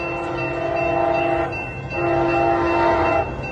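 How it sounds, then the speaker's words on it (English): The Amtrak Coast Starlight passenger train, led by two ALC-42 locomotives, rumbles past Alvarado Street in San Leandro, California, its horn sounding in long sustained blasts, loud and close, a brief gap between them. "here comes Amtrak train number 11, code Starlight"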